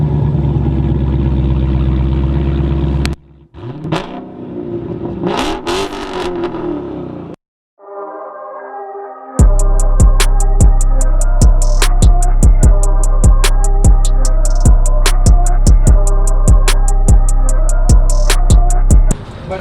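A Hemi V8 with mid-muffler and resonator delete rumbles loud and close, dropping out briefly, then settling into a deep, throbbing idle with a rapid, rhythmic exhaust pulse.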